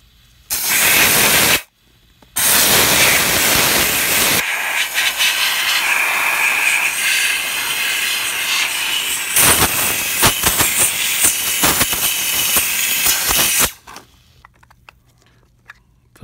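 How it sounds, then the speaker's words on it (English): Steam cleaning a refillable Canon PG-240/CL-241 printer ink cartridge: a loud, close, continuous hiss of steam in two bursts, a short pause between them, then a long spray of roughly eleven seconds before it cuts off. "Well, steam clean it a little bit."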